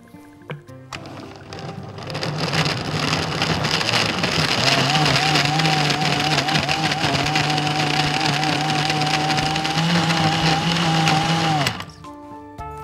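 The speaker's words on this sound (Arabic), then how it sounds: "هناخد الكلام ده كله وهنضربه في الخلاط." A blender whirs loudly and steadily, blending an energy drink with walnuts, its motor pitch settling into a sustained whine for several seconds before shutting off abruptly.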